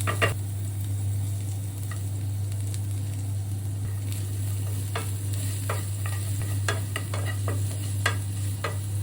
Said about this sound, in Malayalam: എനിക്ക് പാത്രത്തിൽ ഇങ്ങനെ തട്ടൽ ലേശം കൂടുതലാണ്